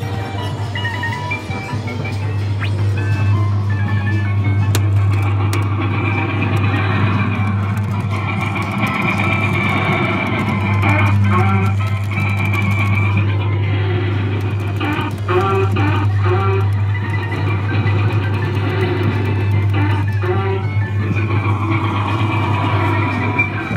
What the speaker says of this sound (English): this one has the Whittaker Brothers Big Top Circus Truck Sound Chip